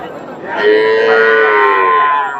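A Friesian cow moos loudly at an outdoor cattle market, one long drawn-out bellow with rich harmonics that swells after a brief pause and holds for nearly two seconds before easing off.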